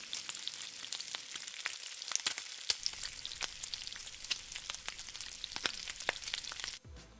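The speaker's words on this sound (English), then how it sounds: "Just listen to that bacon sizzle." Steady crackling sizzle of bacon frying in a pan, dense popping and spitting throughout, close and fairly loud, with no voices.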